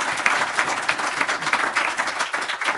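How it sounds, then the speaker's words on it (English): An audience claps in sustained applause at a panel event, a dense, steady patter of many hands holding at a fairly loud level throughout. "if I could ask for a round of applause for Hartford and for SCAN"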